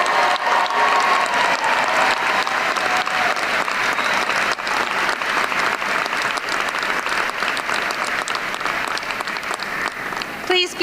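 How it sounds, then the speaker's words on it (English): Sustained applause from a graduate commencement crowd at Gonzaga University in 2018 honoring faculty, family and friends, a loud even roar of many hands clapping that continues throughout and thins slightly toward the end. "would you now please give a round of applause to the faculty who have guided you and the family and friends who have supported you"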